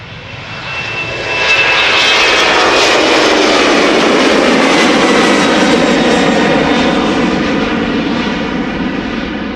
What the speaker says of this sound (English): This is the Adler Embraer 190 German Airways special livery, flying as KLM flight